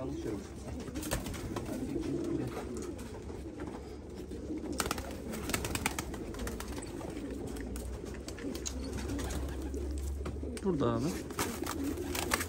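A male and female pigeon pair coo softly nearby in repeated low, throaty rolls, with someone speaking Turkish briefly over the birds and light background noise.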